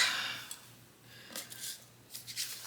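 Scissors snip through paper while a small piece is cut out for a handmade card, a few quiet, close crisp cuts and rustles spaced unevenly over a faint hum, with no talking.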